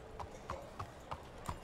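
Horse hooves clip-clop in a video game, five evenly paced, moderately loud steps at close range with no talk.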